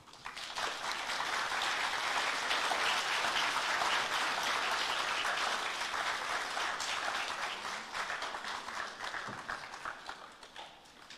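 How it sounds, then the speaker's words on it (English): Sustained applause from a university audience after a distinguished lecture on challenges in education, dense steady clapping for about eight seconds before thinning and tapering off near the end. "Can we give him another round of applause, please?"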